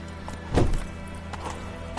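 The horse Roach gallops in The Witcher III, a single prominent hoof thud standing out amid faint background game ambience, brief and close.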